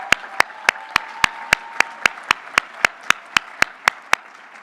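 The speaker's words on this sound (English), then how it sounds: "Let's give a hand clap for that." Slow, evenly spaced hand claps ring out one by one, about three per second, sharp and clear over a faint steady hum, at a mayor's business luncheon.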